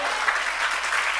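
A church congregation at a fasting prayer service claps for God, a dense burst of many hands applauding together, loud and steady throughout, with voices faintly mixed in.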